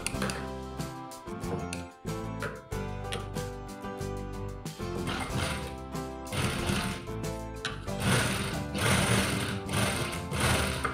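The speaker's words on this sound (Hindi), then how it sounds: "सिलाई हमें यहाँ पर से चालू करना है," Sewing machine stitching piping onto an apple-cut dress with a round hem, running in steady rapid bursts with brief pauses, close and fairly loud with no talking.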